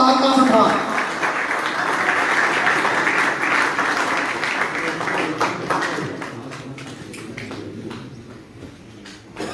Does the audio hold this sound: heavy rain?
no